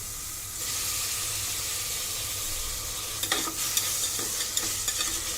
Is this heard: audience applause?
no